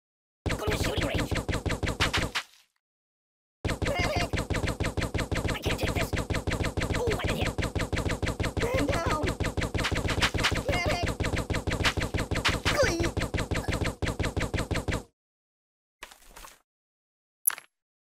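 Rapid automatic gunfire rattles at a shooting range in the game Kick the Buddy, long loud continuous bursts broken by a short pause, then a couple of isolated shots at the end.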